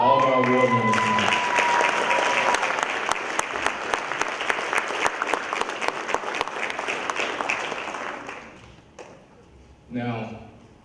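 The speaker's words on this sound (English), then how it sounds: "Give a round of applause for all of our award winners tonight." An awards-ceremony audience at the 2018 Cultural Diversity Awards claps loudly for the winners, a thick, sustained burst that gradually thins and fades before a voice speaks near the end.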